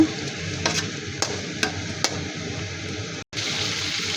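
Prawns in spice paste sauté with a steady close sizzle as a spoon scrapes and taps the pan every half second or so, with one brief break in the sound.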